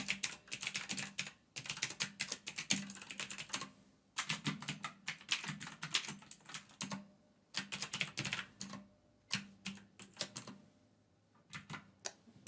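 Computer keyboard typing while a marketing web form is filled in, in bursts of rapid close clicking separated by short pauses, with no voices.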